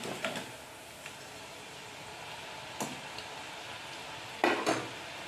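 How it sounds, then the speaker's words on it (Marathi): Potato sev (aloo bhujiya) frying in hot oil gives a steady soft sizzle, broken by a few brief scraping and clinking stirs as the strands are gently flipped, close and without talk. "एक साईडने शेव लालसर झालेली आहे आता ती हलक्या हाताने आपल्याला पलटी करायची"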